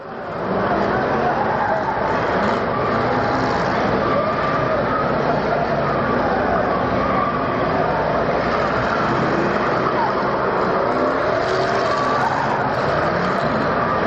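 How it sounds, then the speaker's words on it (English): Stock cars roaring around the Orange County Speedway oval during a 150-lap enduro championship race, a continuous loud engine drone with passing swells, under steady announcer commentary. "Race leader goes by us right now."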